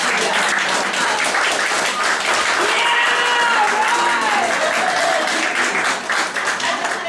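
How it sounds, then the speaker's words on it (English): At a spring concert, an audience gives a sustained round of applause, dense clapping throughout with some cheering voices and a brief whistled or sung tone rising above the crowd. "But I would like to take a moment to give a big round of applause to the team here."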